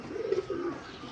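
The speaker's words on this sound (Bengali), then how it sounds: "সিঙ্গেল একটা নর কবুতর যেখানে রাখলাম, এটা কিন্তু একটা নর কবুতর" A male pigeon coos in low, rolling throaty phrases, close and steady for about a second, with no talking.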